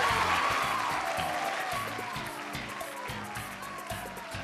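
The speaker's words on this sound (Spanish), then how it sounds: "pueden aplaudir un poco más" A studio audience at a year-end comedy monologue show claps continuously, a dense wash of applause that starts strong and eases slightly while voices murmur underneath.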